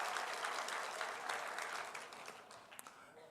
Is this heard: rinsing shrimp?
no